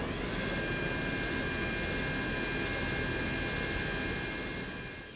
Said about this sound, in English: The valve changed from full open to full close